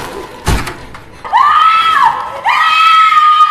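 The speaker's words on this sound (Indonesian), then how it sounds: "Spontan Sarah menjerit histeris sehingga Komar dapat menemukannya dengan mudah" A woman screams hysterically in a horror film, two long shrill wails following a sharp thump, loud and close over a low background.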